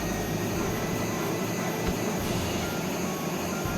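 Harrier jet engine in jet mode in the PlayStation game Eagle One: Harrier Attack, a steady loud roaring whine with a continuous high tone, holding level and unbroken throughout.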